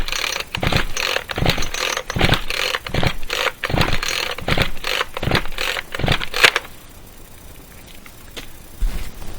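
Repeated pull-start attempts on a chainsaw held at full throttle that won't fire: about nine or ten sharp rhythmic rasping pulls over six seconds, each a brief burst, then quieter handling noise with no engine catching.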